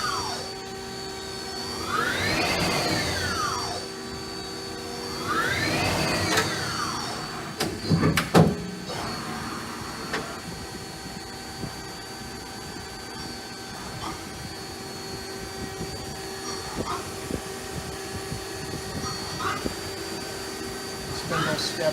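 A 2000 Mazak QT250 CNC lathe running a short program with its spindle at 3,000 RPM: two rising and falling whining sweeps as the spindle spins up and down, a few sharp clunks, then a steady mechanical hum, with a voice speaking now and then.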